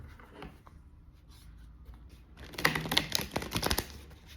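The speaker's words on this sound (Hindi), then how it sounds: "let me shuffle" Tarot cards riffled and shuffled in quick bursts, a brisk flurry of crisp papery flicks and taps near the end after a quiet start, close and fairly soft.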